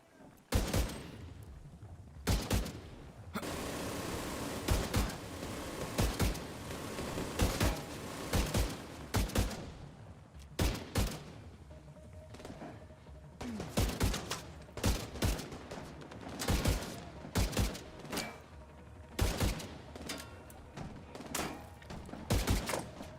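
Gunfire in the shooter The Division 2 goes on for over twenty seconds: dense automatic bursts and sharp single shots in rapid clusters, some close and loud, others more distant, with brief pauses between volleys.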